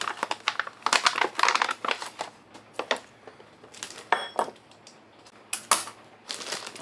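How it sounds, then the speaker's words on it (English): A single meal pouch crinkles and rustles close up as it is handled, irregular bursts of crackling plastic with short pauses between. "I got a meal pouch here, single meal pouch."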